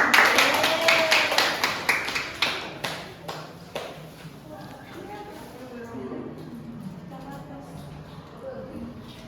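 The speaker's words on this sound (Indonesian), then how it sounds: "Tepuk tangan." Fifth-grade elementary pupils in a classroom clap together in a quick, regular rhythm of sharp group claps that gradually fades after about four seconds, followed by children's and a teacher's voices talking.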